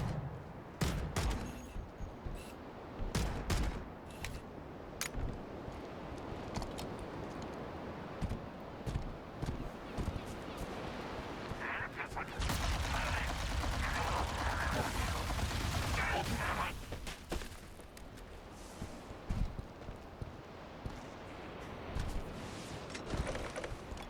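Assault rifle fire in the Halo CEV video game, bursts of rapid shots in irregular clusters with a sustained, dense stretch of gunfire and explosions midway, moderately loud amid game effects.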